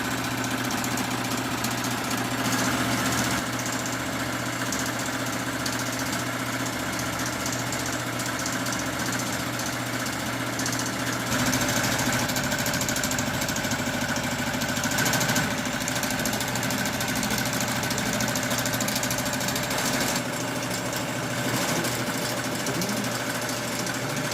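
An embroidery machine stitches out a black and red design, producing a continuous, fast mechanical whirring and rattling hum that stays loud and steady throughout.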